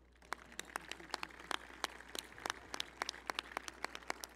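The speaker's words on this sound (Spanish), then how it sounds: "Aplausos, por favor." Sparse, distinct handclaps from a small audience at a solemn swearing-in session, faint and spaced irregularly over a low steady hum, with no talk.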